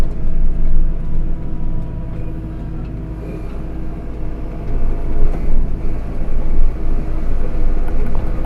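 A truck plowing a snowy road in two-wheel drive gives a steady loud engine rumble and grinding roar, continuous and close throughout with no voices.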